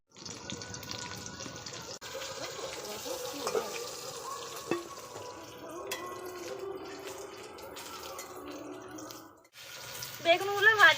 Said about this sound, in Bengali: মাংসর কিমাটা আমি ধুয়ে নেব।